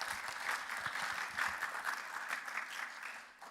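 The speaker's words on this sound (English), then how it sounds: "Let's give another round of applause just for the whole event." Audience in an auditorium after a debate on assisted dying, giving a steady round of applause that sounds somewhat distant and subdued, tapering slightly at the end.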